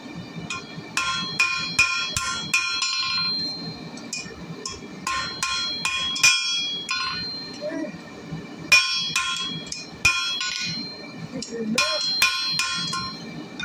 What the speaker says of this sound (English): I'm going to put that on the anvil and smash those just because I want to.